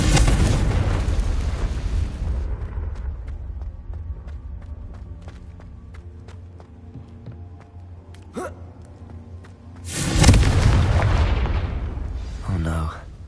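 A Confringo fire spell in Hogwarts Legacy bursts loudly at the start, then a long rumbling decay follows, with a second sharp blast near the end.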